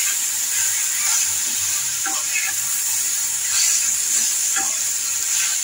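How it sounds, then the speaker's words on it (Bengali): Chorchori, a Bengali mixed vegetable curry, sizzling and hissing steadily in a pan as it is stirred, with soft scraping strokes under a continuous steamy hiss, close and moderately loud. "চচ্চড়িটাকে একটু ভালো করে নাড়াচাড়া দিয়ে"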